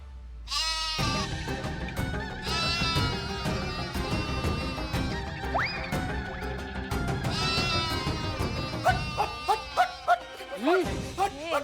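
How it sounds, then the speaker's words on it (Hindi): Goats bleat repeatedly, their wavering cries overlapping in a dense, continuous chorus that rises and falls over a busy background. "इन बकरियों ने रास्ते भर हमको परेशान कर दिया।"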